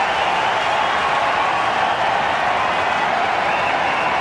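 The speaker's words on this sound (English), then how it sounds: "all of a sudden the Indian crowd and the southern stand go wild" A large Indian cricket crowd in the southern stand at the MCG roars and applauds in a loud, steady wall of cheering that holds at the same level throughout.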